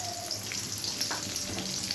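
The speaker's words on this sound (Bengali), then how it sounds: "দিয়ে এটাকে ভালো করে ভেজে নেবো" Potatoes fry in a wok of oil with salt and turmeric, giving a steady, close crackling sizzle with scattered pops throughout.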